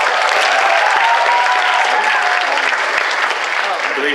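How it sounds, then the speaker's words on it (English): A cosplay competition audience applauds steadily for a contestant on stage, a full, loud and continuous burst of clapping with a few faint cheers mixed in. "Round of applause, yes?"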